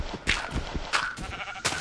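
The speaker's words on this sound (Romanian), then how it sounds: "Oaie!" Sheep in the Minecraft video game bleat several times in quick succession, short wavering baa calls that are clear and moderately loud with no talk over them.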